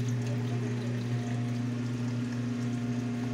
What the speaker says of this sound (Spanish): Acá yo estoy abriendo la válvula para que haya un flujo constante de agua.